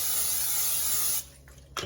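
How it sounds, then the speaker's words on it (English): A steady hiss of nonstick cooking spray sprays for about a second onto pizza rolls, then stops abruptly, leaving quiet background before a brief faint noise at the end. "Spray them with another coating of nonstick cooking spray."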